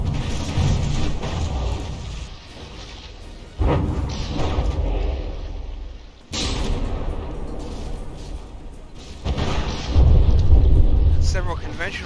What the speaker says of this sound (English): its first mortar strike is about to land